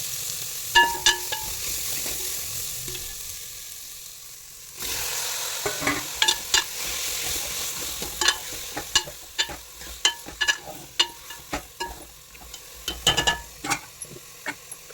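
Chopped pumpkin is stirred into fried sprouted beans, green gram and chickpeas, in a pan. A soft sizzle runs underneath while a spoon scrapes and clicks against the pan in repeated, irregular strokes, close up.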